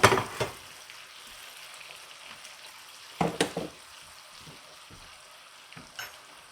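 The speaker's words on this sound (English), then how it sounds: "So now you can see the garlic cooking down even more." Garlic cooking down in a pan for garlic shrimp fettuccine Alfredo, a quiet steady sizzle with a few louder crackling bursts and brief stirring scrapes, with no talk.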